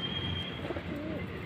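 Soft, low pigeon cooing close by from a pet pigeon, a brief throaty warble against a quiet background hum.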